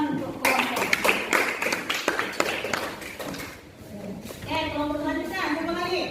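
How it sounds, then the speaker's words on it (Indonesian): A classroom group gets a round of applause, dense clapping from many hands that swells quickly and fades after a few seconds, followed by a short spell of talking. "Oke, tepuk tangan untuk kelompok."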